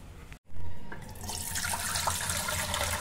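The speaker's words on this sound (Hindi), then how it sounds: "तो अब चलो पानी देते हैं।" Water pours from a vessel onto a potted plant indoors, a steady close splashing and trickling flow that starts abruptly after a brief silence and continues to the end.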